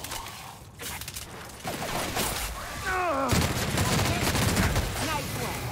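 Gunfire in The Outer Worlds, a sci-fi role-playing shooter; weapon fire is mixed with game effects, including a swooping electronic tone, and rises into a steadier, louder stretch of shooting.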